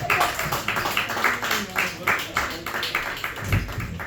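Enthusiastic audience applause for a comedian at a comedy club, a dense wash of clapping that holds steady throughout, with some crowd noise mixed in.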